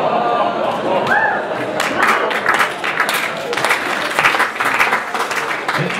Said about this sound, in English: Thank you for clapping for that.